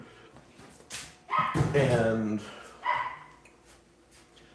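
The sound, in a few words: dog barking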